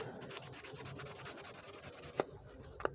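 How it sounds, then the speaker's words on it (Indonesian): A Toyota Kijang spark plug is scrubbed with sandpaper or a steel wire brush, producing rapid, rhythmic rasping strokes close up, with two sharp clicks near the end. "busi dibersihkan dengan boleh amplas, boleh sikat baja ya"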